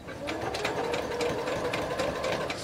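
A domestic sewing machine runs continuously, stitching a straight seam on a fabric bag, with a steady rapid needle rhythm close up and no pauses.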